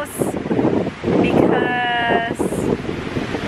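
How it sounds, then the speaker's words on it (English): Strong, gusty wind buffets the microphone outdoors beside a lake house. The roar is loud and close, a brief high tonal cry sounds midway, and voices are faintly present. "it is so windy"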